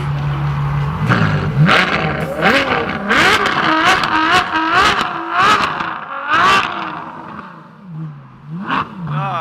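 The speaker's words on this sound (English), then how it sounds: "A little rev force, it's gonna give us a rev." A Nissan Skyline R33 engine revs hard in a series of sharp, loud bursts, each climbing and falling in pitch, with a brief pause before a final blip.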